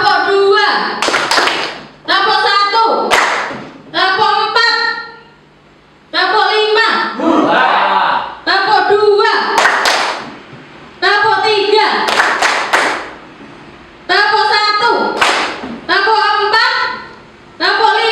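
Classroom group of teachers and children clapping a counted clap pattern, sharp bursts of claps in short rhythmic groups separated by brief pauses, with a leader's voice calling between the rounds.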